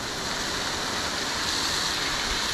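A steady, loud hiss of water spraying from a garden hose onto flowers, constant and broadband like a nozzle running close by.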